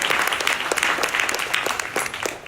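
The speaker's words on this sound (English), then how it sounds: "give a great round of applause for" Sustained applause from an audience at a housing announcement event, dense and steady clapping throughout with no speech over it.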